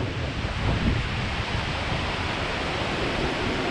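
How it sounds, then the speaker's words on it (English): Wind gusting on a switchback trail in the Columbia River Gorge near Wahkeena, Shepperd's Dell and Latourell Falls, a continuous loud broadband roar buffeting the microphone, with no voices. "And the wind is blowing."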